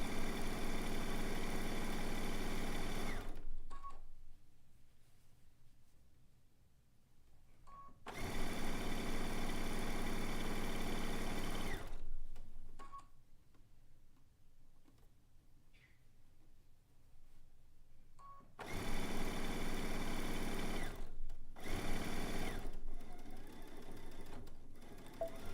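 A sewing machine stitches a long seam on a zig zag quilt in a home studio, running in three loud sustained bursts separated by quiet pauses, with no talk over it.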